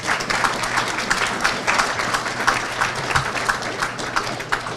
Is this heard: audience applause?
yes